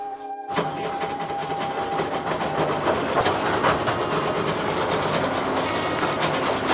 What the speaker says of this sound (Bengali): হাওড়া স্টেশন থেকে টয় ট্রেন ছেড়ে দিল